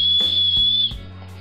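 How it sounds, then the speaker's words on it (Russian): A small whistle built into a backpack chest-strap buckle gives a thin, steady high-pitched tone close up for most of a second, then stops, leaving light handling clicks. "И интересно, что этот фастекс у нас со свисточком."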